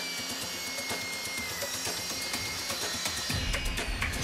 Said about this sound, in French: Il s'agit de découper quelques planches sur mesure.